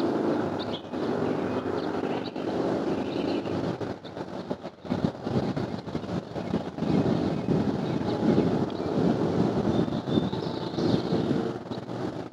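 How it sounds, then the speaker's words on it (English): Strong wind buffets the microphone outdoors during a drone waypoint flight, a loud continuous rumbling roar with gusty surges and brief dips. "It's a little bit windy out here"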